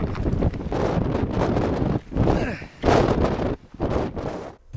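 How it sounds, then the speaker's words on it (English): Strong wind buffets the microphone outdoors in San Francisco, loud rumbling gusts that surge and drop in uneven waves with brief lulls between them. "The wind's a little too strong for comfort"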